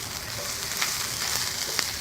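Smoked brisket sears in a hot skillet on a Pit Boss pellet grill, giving a steady, close, bright sizzle and crackle that runs unbroken for a couple of seconds with no talking.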